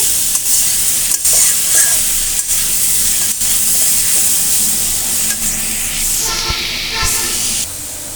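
Leafy greens (shak) sizzle loudly and steadily in a hot pan, with sharp stirring knocks every second or so. Near the end a hissing burst of steam rises.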